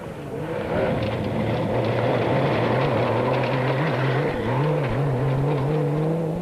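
A loud, rough turbocharged Toyota Hilux engine roars continuously with rising and falling revs as it races hard off-road nearby in a dusty Lesotho rally, with no talking.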